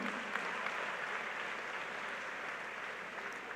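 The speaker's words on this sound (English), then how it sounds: "let's give a round of applause to all our participants" A round of applause for the participants at the end of the chemistry round of a national science challenge grand final, a steady dense wash of clapping from an audience that holds level for the whole stretch.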